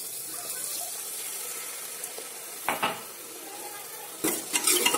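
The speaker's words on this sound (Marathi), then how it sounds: "आता मसाला चांगला शिजू द्यायचा." A tomato masala simmers and sizzles steadily in a pan for French beans, with soft stirring scrapes and a couple of louder spoon knocks against the pan; no one speaks.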